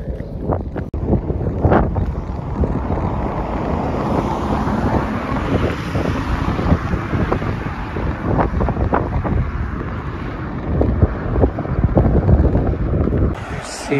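Strong wind buffets the microphone at São Martinho do Porto, a seaside beach town in Portugal, a constant loud rumble with gusts and faint surf beneath, no talking.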